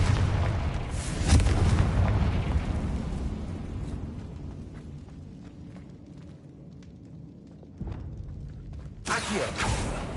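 Confringo blast spell cast in the Hogwarts Legacy video game, a loud booming explosion at the start that rumbles away over several seconds, followed by another sharp burst near the end.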